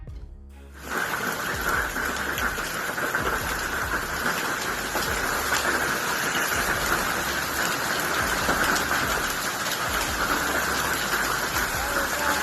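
A heavy hailstorm downpour hammers down in a steady, dense roar of rain on hard surfaces, loud and continuous throughout after a brief quieter start, with no voices.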